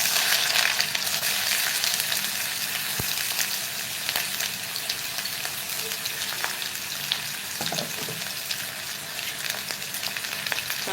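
Chopped onion frying in a pan with bloomed cumin and mustard seeds for a restaurant-style cauliflower dish, a steady close sizzle with faint spatula scrapes and occasional crackles throughout, no voices.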